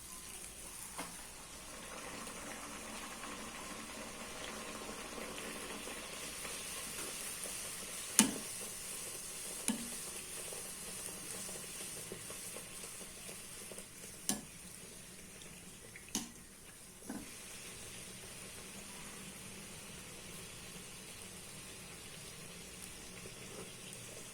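Beetroot poori frying in hot oil in a kadai, a steady soft bubbling sizzle that runs throughout with a few sharp clicks and small splashes; no talking.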